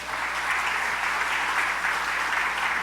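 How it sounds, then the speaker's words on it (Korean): A church congregation gives sustained applause, a broad, even wash of many hands clapping together, filling the room at a steady level. "하나님께 영광 박수 한번 돌려."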